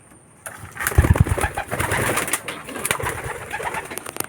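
Pigeons coo close by in a loose flock, soft throaty calls overlapping in a steady murmur with a few louder coos, no talk.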